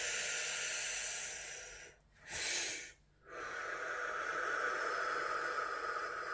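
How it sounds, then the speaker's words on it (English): A deep breath is drawn in through the belly during a meditation exercise: a soft, airy inhale sits between stretches of steady background hiss, close and fairly quiet. "big deep breath through the belly."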